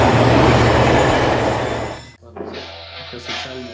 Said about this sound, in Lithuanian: Traukinys arčiau nei atrodo.